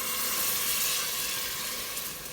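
Water poured into a pan of frying onion and tomato for lentil soup makes a steady, loud, close hiss of sizzling and steam that runs without a break.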